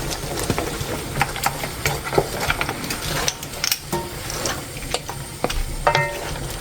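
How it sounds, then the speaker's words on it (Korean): Seasoning paste being stirred into braised monkfish broth, irregular wet scraping and clicking strokes against the pot bottom, close and fairly loud, with no voices. "양념장을 넣고 바닥에 국물과 살살 비비면 뭉치지 않아요"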